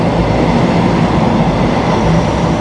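A train rumbles past steadily and loudly throughout, a dense unbroken roar of wheels on rails close by, with no voices over it.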